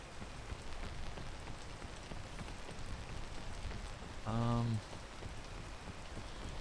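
Rain falling in the climbing video game PEAK, a soft continuous hiss of rainfall throughout, with a brief tonal chime rising over it near the end.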